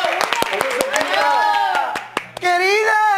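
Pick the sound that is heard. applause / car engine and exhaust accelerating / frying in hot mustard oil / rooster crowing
applause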